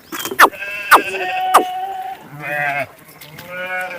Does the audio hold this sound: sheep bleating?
yes